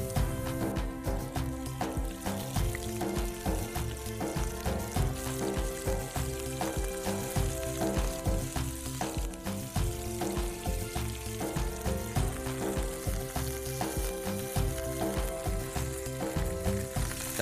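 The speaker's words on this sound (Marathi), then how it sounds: "आपल्याला परतून घ्यायचा हा कीस व्यवस्थित।" Grated potato kis sautés in ghee, a dense, loud, continuous sizzle with rhythmic stirring scrapes running throughout.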